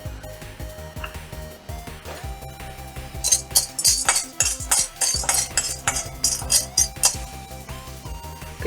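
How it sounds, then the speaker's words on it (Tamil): Chana dal frying in oil in a kadai, stirred with a metal spoon: soft sizzling under repeated clinks and scrapes against the pan, close and moderately loud, with a cluster of bright scraping strokes midway. "கடலைப்பருப்பு இப்போ நல்லா ஃப்ரை ஆயிடுச்சு."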